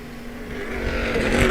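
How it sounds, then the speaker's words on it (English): A loud race car engine roars past at Sebring during the Turkey Trot event, the drone swelling steadily over a second and a half. "These are some loud cars, let me tell you."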